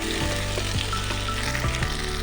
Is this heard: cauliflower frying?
yes